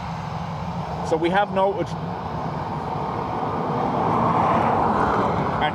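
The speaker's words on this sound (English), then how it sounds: "So Virgin to Barbados went overhead. That's what made that noise." A Virgin airliner bound for Barbados passing overhead after departing Dublin Airport, its engine rumble swelling into a broad roar toward the end while someone speaks briefly near the start.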